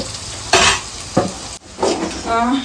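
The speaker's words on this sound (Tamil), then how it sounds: "அடுத்து வந்து வெங்காயம் வந்து வதங்கிச்சு" Onions sautéing in a pan for paneer fried rice, a short burst of sizzling broken by a few scraping stirs, close and fairly loud.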